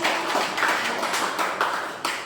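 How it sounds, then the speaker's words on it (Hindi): Children clapping their hands in a classroom activity on singular and plural, a rhythmic run of about five or six bursts of applause at moderate distance, with no talking over it. "इसके लिए ताली बजाओ, सही बताया।"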